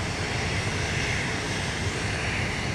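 A Hawaiian Airlines jet rolls for takeoff at Sydney Airport, heard as a steady, dense engine roar with no breaks or voices.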